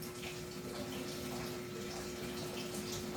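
A tap pours water steadily into a bathroom basin or tub, a constant, even rush with a faint tonal hum underneath and no voices.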